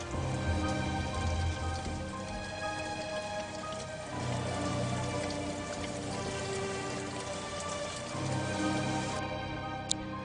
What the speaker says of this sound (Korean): 뉴스 보도에도 없던 비가 내리기 시작한 것이다